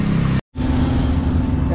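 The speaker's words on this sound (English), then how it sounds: "Envigado traffic right here, look." Busy Envigado street traffic near 6 o'clock, a constant wash of car and motorbike engine noise, briefly cut out for a split second before the rumble resumes just as loud.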